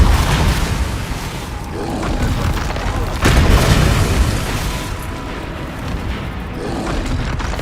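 Expulso blasting spell in Hogwarts Legacy going off as heavy booming explosions, one sharp burst standing out midway over dense rumbling combat noise, with no talk.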